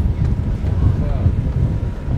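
Strong desert wind buffets the microphone in a constant low roar at an off-road riding area, gusting steadily with no pauses.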